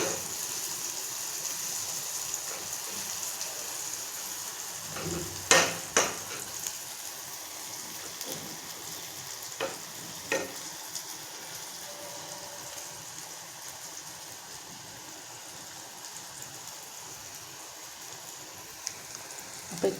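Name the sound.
food frying in a pan after being flipped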